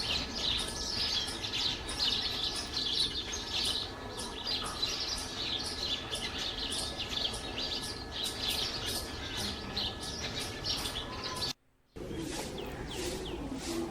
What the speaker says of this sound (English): a lot of sparrows after their breakfast they are chirping and enjoying